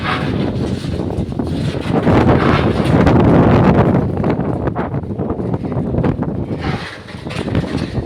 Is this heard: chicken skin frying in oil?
no